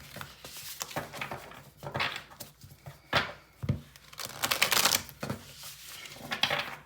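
Tarot cards shuffled by hand during a reading, a run of irregular papery riffles, slaps and rustles close to the microphone, loud bursts alternating with quieter handling, with no talking.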